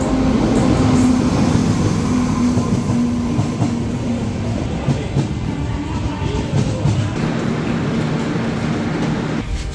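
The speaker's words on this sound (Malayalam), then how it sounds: "So we are waiting for the train. Yes, our train is here." A train pulls into a station platform with a loud, steady rumble of rolling wagons and a sustained low mechanical hum, plus faint clatter and hiss throughout.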